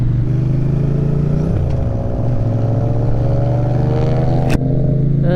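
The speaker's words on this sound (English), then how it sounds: "This loud car on the left side is racing." A loud engine drones steadily and close, its pitch rising and falling as a racing car speeds past on the left of a motorcycle, ending with a brief sharp click.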